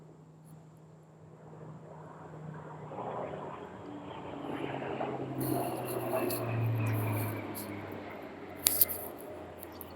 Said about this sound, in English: that was a huge airplane that just flew over